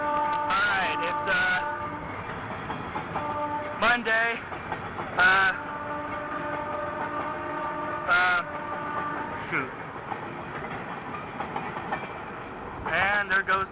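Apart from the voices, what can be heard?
freight train passing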